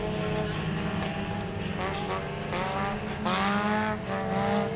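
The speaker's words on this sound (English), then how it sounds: "Slowly gapping the 10 car, Clifton Wisnick." Race cars roar around an oval track at the Big Chill night race, several engines droning and shifting pitch together as they pass, steady and loud throughout.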